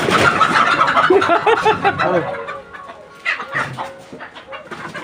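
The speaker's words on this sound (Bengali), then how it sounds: "এটা মোরগ তাই তো এই চারটা এইগুলো হচ্ছে মুরগি" Chickens and a rooster being handled give agitated clucks and squawks in close, irregular bursts, with people talking around them.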